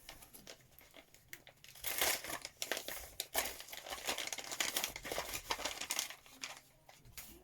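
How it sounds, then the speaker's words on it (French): Packaging crinkles and tears as a parcel is opened, with bursts of rustling and crackling plastic or paper that come and go, close and moderately quiet, with no speech. "Je vais ouvrir le deuxième colis."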